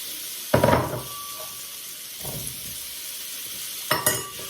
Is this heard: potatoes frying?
yes